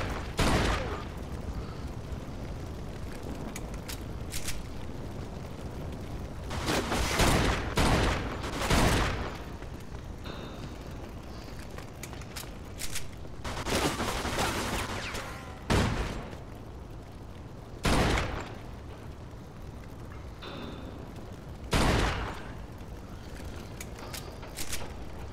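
Tommy gun fire in Mafia 2, heard as repeated loud bursts of automatic gunfire with quieter gaps between them over steady game background noise.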